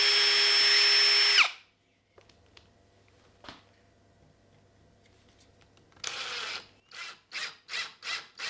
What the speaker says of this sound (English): So, going to drill this hole.